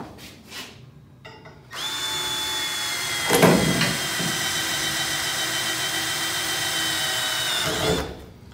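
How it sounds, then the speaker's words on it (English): A battery-powered drill bores into an aluminum boat: a couple of short bursts, then a sustained high motor whine that strains briefly under load and cuts off near the end. "That drill's kind of useless because it's a battery powered one."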